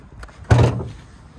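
A car's hood is popped open with one sharp, loud thud close by, fading quickly into quiet; the hood is fitted with non-original gas struts.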